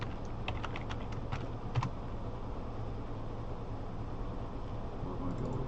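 Keys clatter on a computer keyboard as a password is typed in, a quick run of soft clicks followed by a few isolated taps over a steady background hum.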